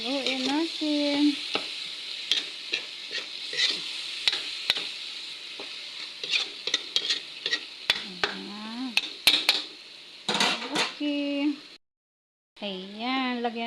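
Vegetables simmering in coconut milk for ginataang talong, stirred with a utensil that scrapes and clinks against the pan through a steady sizzle; a voice talks over parts of it, with a brief silent gap near the end.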